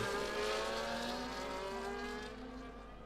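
Race cars in a Jeddah circuit racing video game roll along at low speed while drivers warm their tyres, a steady layered engine drone with rising harmonic whine that fades slightly toward the end, no voices.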